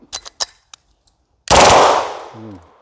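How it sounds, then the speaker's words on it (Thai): BLOW TR 92 blank pistol firing with the trigger held down in full-auto mode: a few sharp separate reports, then one loud sustained burst that tails off into a ringing decay, close and alone with no talk. "ถ้าบิดตรงนี้ลง นะครับเป็นการกดไกแช่ไว้เป็นการยิงฟัวตโต้ครับ"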